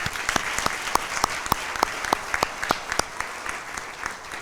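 Applause at a Chain of Survival recognition event, made of many soft claps with a few sharp, distinct hand claps ringing out in a loose, regular rhythm over the background patter.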